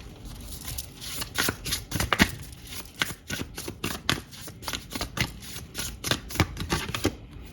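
Tarot cards are shuffled by hand in a steady run of crisp riffling flicks and taps, close and clear, with no talking over them.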